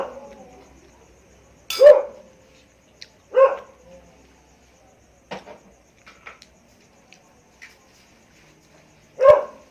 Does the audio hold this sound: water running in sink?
no